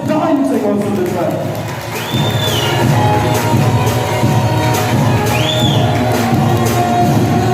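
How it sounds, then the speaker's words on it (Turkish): Audience cheering and applauding at an Islamic circumcision celebration, a loud continuous crowd roar with shouts, while an amplified voice speaks over it. "Alkışlarımız daha yüksek olsun lütfen."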